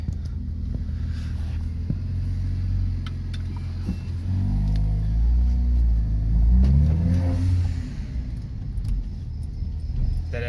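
Mercedes A45 AMG fitted with an aftermarket blow-off valve, driving past or pulling away: a steady engine drone that swells into a loud rev with gear changes in the middle, with no talk over it.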